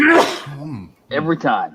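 A single loud, close sneeze from a person during a casual livestreamed bourbon tasting, followed right away by a few spoken words.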